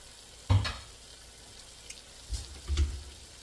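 Green beans tipped into a pan of frying potatoes give a burst of sizzle, then quieter crackling with two more bursts of frying as they are stirred in, close by with no talk.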